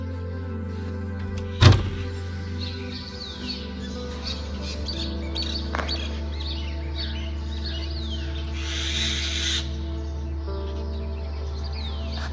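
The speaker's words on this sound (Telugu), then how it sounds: "బర్డ్స్ సౌండ్ అయితేనండి ఎక్సలెంట్ అంటే ఎక్సలెంట్ ఉంది అసలు." Faint bird chirps and calls drift over a steady low engine hum on the road from Srinagar to Kargil, with a sharp knock early on and a brief rushing swell later.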